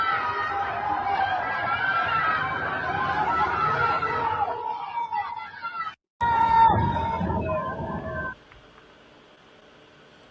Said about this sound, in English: So did you hear you hear explosions in the background, and then everyone starts cheering.